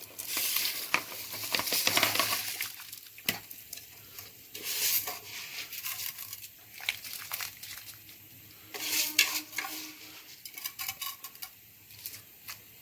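Rice tipped into a pot of boiling water for green masala chicken biryani, giving faint stirring and rustling clatter with a soft simmering hiss, close and without talk.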